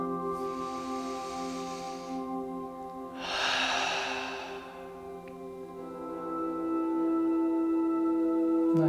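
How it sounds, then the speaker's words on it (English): Slow breath drawn in through the nose, then a longer airy exhale out through the mouth at the close of a gentle yoga flow, near and fairly soft over a steady background hum with faint music tones. "a breath in through the nose and out through the mouth together"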